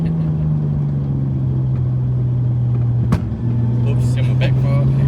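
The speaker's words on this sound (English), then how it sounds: "And then did a massive backfire next to him." Nissan R32 street car rumbling loudly at close range with a steady engine drone and one sharp pop like a backfire partway through.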